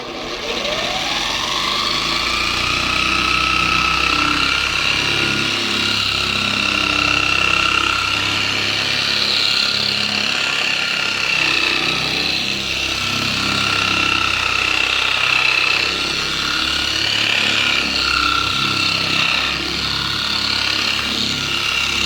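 Simoniz Platinum 6-inch dual action polisher running steadily at a high speed setting on a car's paintwork, a continuous close whir with a rising tone at the start and no speech.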